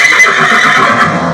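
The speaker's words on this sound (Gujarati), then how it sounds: "કાલી ઘોડી એક નંબર કાલી ઘોડીની જે આપણે ઉતરશે ગાડીની અંદર સંપૂર્ણ નિહાળીએ" A mare neighs loudly and close while being unloaded from a vehicle, one sustained, shaky whinny with a bright, strained tone lasting over a second.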